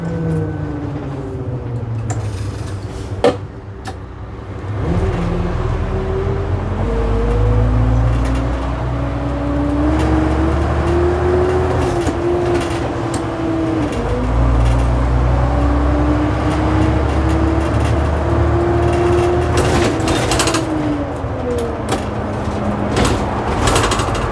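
A Leyland Atlantean bus engine revs up and drops back through a series of gear changes, a steady droning whine rising and falling in pitch, loud and close from inside the vehicle.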